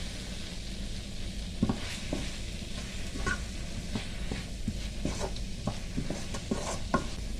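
Spice masala with a teaspoon of cumin powder frying in a pan for a stuffed brinjal curry, a soft continuous sizzle broken by scraping stirs and light taps of the spoon, fairly quiet and close.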